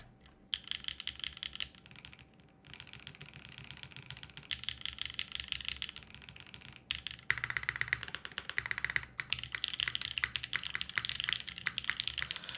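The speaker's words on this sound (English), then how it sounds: "you might like that this is a quieter keyboard" Continuous fast typing on a muted aluminum mechanical keyboard without foam, with JWK Bluey switches, soft clicky keystrokes in a steady stream with brief pauses, close up and fairly quiet.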